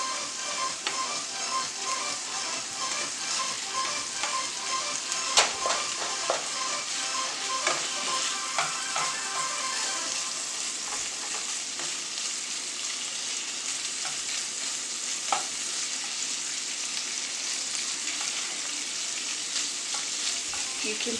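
Shrimp and snow peas sauté over high heat in a pan, a steady dense sizzle running throughout with a few sharp crackles and pops, close and even, with no voices.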